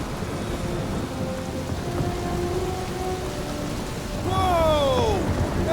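A thunderstorm in the game Guardians of the Galaxy brings steady rain over a low rumble of thunder that swells louder near the end, with faint tonal game sounds drifting above.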